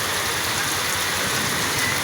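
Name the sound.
rain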